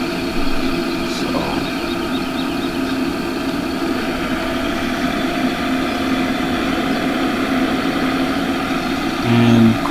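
A farm tractor pulling a 40,000-bushel grain cart runs with a steady droning engine hum that stays constant and fairly loud, with no talking.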